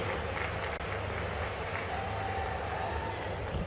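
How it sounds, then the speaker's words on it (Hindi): Crowd applause greets Chief Minister Dr. Mohan Yadav at a public event, a steady wash of many hands clapping that holds evenly throughout without pause. "स्वागत करिए जोरदार तालियों से माननीय मुख्यमंत्री डॉक्टर मोहन यादव जी का।"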